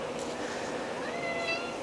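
A house cat meows insistently close by indoors, two or so drawn-out crying calls over a quiet background, with no talking.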